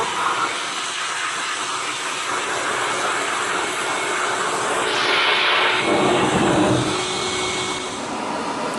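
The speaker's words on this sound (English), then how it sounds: "The best way to look for fleas is with a blow dryer, because you can point anywhere, part the hair, the fleas really can't hide." A blow dryer blows steadily over a small pet's fur during flea checking on a grooming table, a loud continuous airy whoosh that swells slightly midway and runs throughout with no talking.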